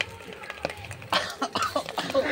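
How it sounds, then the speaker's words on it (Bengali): Several people coughing and clearing their throats nearby in a home kitchen while eggs are fried for chicken pasta, with short irregular bursts scattered across the moment and no talk. "ওইদিকে সবাই কাশছে"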